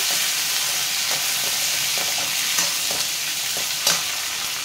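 Curry leaves sizzle loudly in hot oil while a peanut chutney is being tempered, a dense crackling hiss close by with a few sharper pops and spoon clinks.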